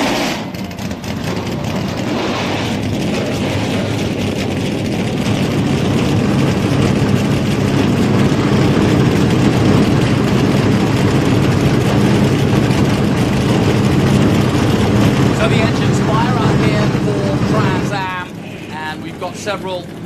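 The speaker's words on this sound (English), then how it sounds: "Drivers, start your engines!" Trans Am race cars at Sebring start and idle their engines, a loud dense roar of many engines rumbling together close by, settling and thinning near the end.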